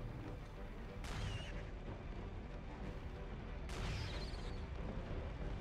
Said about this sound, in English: You can tell what he's shooting at.